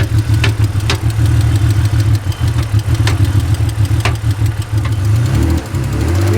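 An old car engine idles with a rough, steady low rumble and a persistent knocking tick running through it, heard up close, the knock consistent with a worn cam.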